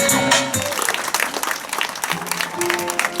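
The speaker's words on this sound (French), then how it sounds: "C'est super, on peut encore l'applaudir" An audience claps warmly at a spring disability-awareness event for the association AMI 73, a dense, loud burst of many hands sustained for a few seconds.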